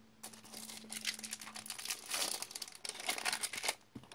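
Close, quiet crinkling of a plastic bag, irregular rustles and crackles coming in bursts as it is handled.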